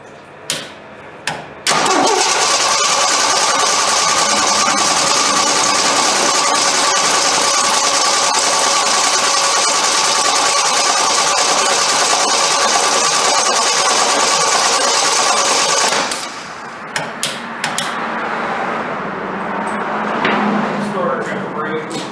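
A Jeep CJ5 with a newly fitted Motorcraft 2100 carburetor cranks briefly and fires, then runs loud and steady for about fifteen seconds before dropping to a rougher idle, with a few clicks and knocks around it.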